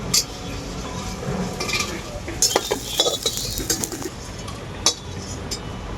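Fried soya chunks are lifted from a pan with a utensil, giving light metallic clinks and scrapes over a faint, steady sizzle of hot oil, with a few sharper taps clustered in the middle.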